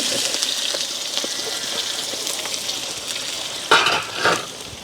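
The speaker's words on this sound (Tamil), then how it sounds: "இப்போ வந்து வெங்காயத்தையும் போட்டுக்கொள்வோம்." Onions frying in hot oil with whole spices for a birthday biryani, a steady close sizzle with scattered crackles and a couple of louder stirring bursts near the end, no talk.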